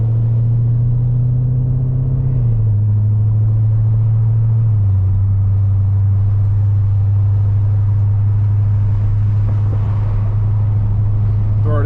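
Cammed Jeep SRT engine driving on a 73-degree day, a loud steady low rumble that shifts down in pitch twice as it cruises, with no talking.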